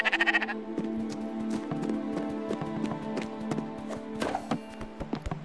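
Sheep bleating in the video game Spiritfarer, a quick run of nasal bleats at the start, then hooflike clip-clop taps and soft game music with a few more bleats near the end.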